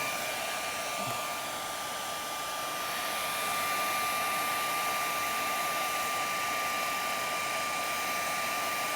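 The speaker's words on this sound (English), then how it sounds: "I've got my hairdryer on the trees there." A hair dryer blows steadily at close range onto a painting, a constant whooshing roar with a high motor whine that never changes.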